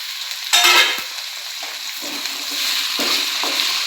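Tomatoes and green chilies sauté in hot oil for sambar, a steady close sizzle with a loud hiss as they hit the pan, then intermittent scrapes of stirring.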